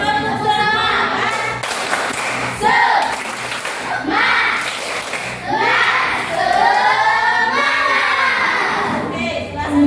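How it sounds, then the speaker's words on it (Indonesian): A school class claps together in a rhythmic spirit clap, with repeated bursts of clapping mixed with children's loud chanting and shouting. "Tepuk semangat."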